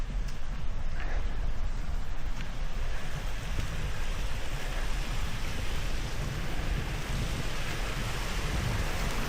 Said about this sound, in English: That's a real pretty little waterfall